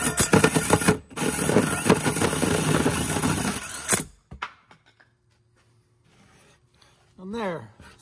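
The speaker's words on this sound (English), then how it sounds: "just do a 6-inch diameter hole with a 6-inch diameter hole saw" A 6-inch hole saw grinds loudly and steadily through a wooden cornhole board for about four seconds, briefly pausing once, then cutting off into near silence with a faint rising squeak near the end.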